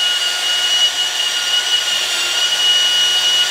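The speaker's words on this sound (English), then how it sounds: "So it's best to clean these bolts when they're already on. Just a little bit of steel wool on one of these brushes." A steel wool brush on a power tool scrubs engine bolts still in place on a 5.7L Hemi, giving a steady whirring hiss with a high whine, loud and unbroken throughout.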